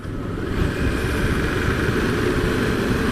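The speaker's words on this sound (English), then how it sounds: "It's got a nice sound, but obviously it needs a race can because it's standard exhaust" A steady, low motorcycle exhaust burble from a Triumph Tiger 1200 GT Pro with standard exhaust rumbles continuously at close range, even and unbroken throughout.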